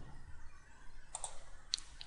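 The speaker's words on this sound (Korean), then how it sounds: "라이트 클릭" A few soft, faint computer mouse clicks, including a right-click, tap out sparsely during a session in Autodesk Inventor 2015 CAD software, over quiet background hiss.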